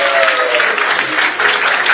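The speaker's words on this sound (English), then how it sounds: "I have to give one round of applause to all the TI NGOs" Audience at a state-level Goa AIDS Control Society function breaks into loud, dense applause, a steady close roar of many hands clapping.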